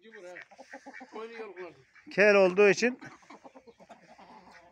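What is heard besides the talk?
bald-necked coli chicken rooster clucking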